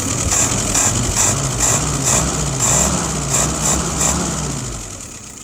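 A Diedrich WO 539S engine idles while warming up, a steady close-up chugging hum with a faint high whine on top, slowly easing off toward the end, with no talk.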